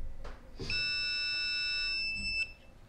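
Southwire 21550T clamp meter in NCV mode held to a live wire sounds a steady, piercing electronic beep tone lasting about two seconds, close and alone.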